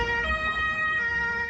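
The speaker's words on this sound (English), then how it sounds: "Ambulances rushing to the scene." Ambulance sirens wailing in steady, overlapping tones as emergency vehicles rush to an attack scene in Berlin, loud and continuous over low road rumble, with no talking.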